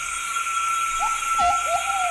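In San Cipriano forest, a Plumbeous Pigeon calls with three mellow, hooting coos in quick succession, set against a constant shrill chorus of insects and frogs.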